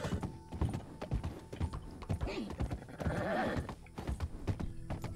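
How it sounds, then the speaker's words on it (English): Horse hooves clip-clop in a roleplay video game, mixed with neighs and game noise; the sound is moderately loud and runs for a few seconds. "That's a thieves landing horse right there, Hannah."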